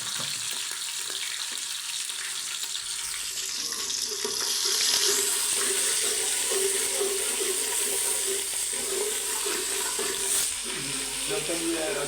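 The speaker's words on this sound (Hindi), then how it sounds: "हम इसको प्याज वगैरह सब्ज़ी वगैरह धो के रख लेते हैं।" Tap water running into a sink while onions and vegetables are washed, a steady rushing stream over a background sizzle from a pot on the stove, close and continuous.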